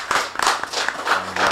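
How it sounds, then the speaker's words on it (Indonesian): A small group claps at an Indonesian plantation-sector podcast taping, several close hands striking in quick uneven bursts for a moment, with a faint voice underneath. "Tepuk tangan dulu dong."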